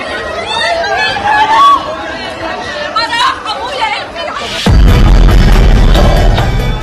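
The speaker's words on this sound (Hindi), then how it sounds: "इस आग के बीच बच्चों को बाहर निकालने के लिए आवाज लगाई जा रही है।" Amid a fire in Gaza at a school turned refugee camp, people shout urgently to get children out, with excited voices overlapping, then a sudden loud burst of roaring, crackling noise takes over.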